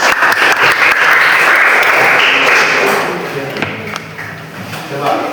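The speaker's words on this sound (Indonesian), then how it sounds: "Coba kasih tepuk tangan dong." A classroom of students claps in a loud, dense burst of applause that fades over several seconds, with scattered voices and a few sharp taps at the end.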